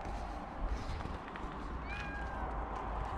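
A cat gives a single faint meow partway through, masked by heavy steady background noise near a car being packed for a road trip, with no clear talk.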